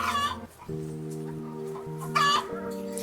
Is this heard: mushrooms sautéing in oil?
no